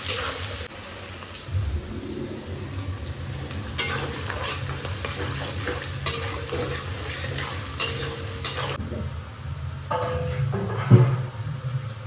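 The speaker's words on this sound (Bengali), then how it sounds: "এখন আমি দিয়ে দেবো পেঁয়াজ কুচি। পেঁয়াজটা সুন্দর করে লাল লাল করে ভাজবো" Chopped onions frying in hot oil for a mutton curry, a steady close sizzle with repeated scraping and stirring of a spoon against the pan, no talk.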